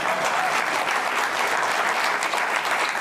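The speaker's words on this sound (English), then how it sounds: "Oh, you clap for that." Studio audience clapping on a late-night comedy talk show, a dense, steady burst of applause filling the whole stretch with no voices over it.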